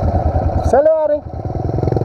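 A Pro Tork TR100F mini motorcycle runs on a dirt trail with a steady buzzing engine pulse, while a person speaks loudly over it in the middle.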